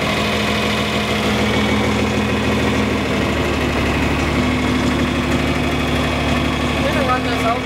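A John Deere 4020 tractor engine runs at a steady low idle-like rumble with constant vibration while cultivating corn, close and continuous, with people talking over it.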